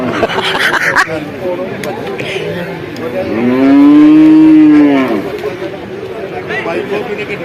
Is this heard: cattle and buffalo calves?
yes